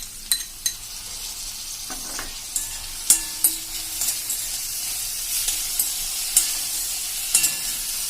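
Finely chopped medium-sized tomato sizzling in a hot pan while being stirred, with soft steady frying hiss and several sharp scraping clinks of a spoon against the pan, no talking.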